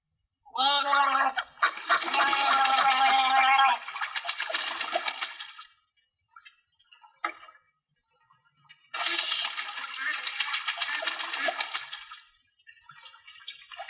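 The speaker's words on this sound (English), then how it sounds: "I'm gonna gargle." A person gargling close by, two long bubbling gurgles separated by a pause, followed by a few quieter wet sounds, with no talking.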